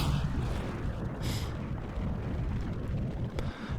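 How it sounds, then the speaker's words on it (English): Rocket engine roar at launch in the video game Kerbal Space Program, a continuous broad rumbling thrust with a brief brighter burst partway through, steady and fairly loud with no speech. "let's switch to our rocket and kicking the gas and launch"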